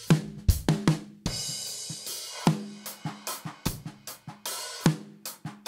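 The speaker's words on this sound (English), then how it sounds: "So you can get really cool crushed drum room sounds like this." Soloed drum kit pushed through multiband compression for a crushed room tone, with punchy kick and snare hits in a steady groove and washy, heavily squashed cymbal and room ambience between them.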